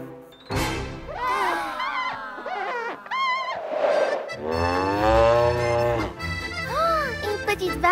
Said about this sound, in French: Oh, une petite vache.